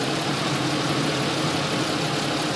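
A car's 3.1/3.4 liter engine idles steadily during coolant bleeding, a dense, even rumble with no breaks, heard up close and alone.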